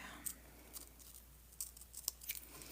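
Scissors snip out a paper circle in a quiet room, giving a series of short, faint, crisp cuts at an uneven pace.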